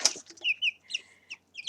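Young chicks around two weeks old make short high cheeping calls mixed with softer clucking chirps, several brief separate notes close by with small gaps between them.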